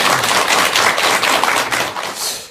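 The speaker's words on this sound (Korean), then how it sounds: "뜨거운 환영의 박수 부탁드리겠습니다" A studio audience on a Buddhist television talk program claps loudly to welcome a monk guest, a brief burst of dense clapping close by that fades at the end.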